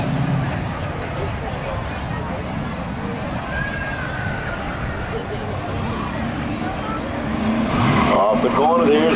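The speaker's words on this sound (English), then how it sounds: "there's the green flag. We're underway." A 1980 Chevy Camaro launches at the green flag at a spectator drag race: steady broadband engine and crowd noise, rising louder near the end as the cars take off.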